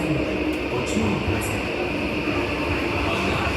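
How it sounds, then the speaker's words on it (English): A service train rumbles steadily through a Melbourne station without stopping, a constant roar of wheels and motors with a few faint high squeals, close and loud. "Service train is passing."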